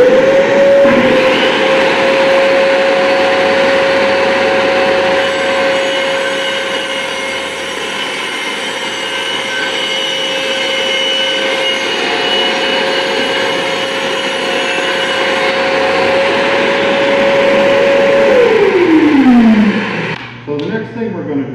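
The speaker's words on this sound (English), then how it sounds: "So what we're going to be doing is cutting a quarter inch kerf into the tabletop" A saw cuts a quarter-inch kerf into the tabletop of a Pro-Cut 50, with a loud, steady motor whine that holds for about eighteen seconds and then spins down, followed by faint clatter.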